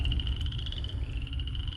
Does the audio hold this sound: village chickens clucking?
no